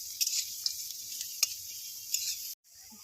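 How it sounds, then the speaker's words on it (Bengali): Potato mixture frying in a pan with a steady bright sizzle and occasional louder pops and crackles, alone without talk, cutting off abruptly near the end. "সুন্দর করে ভেজে নেবো"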